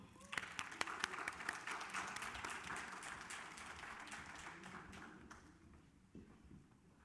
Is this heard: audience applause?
yes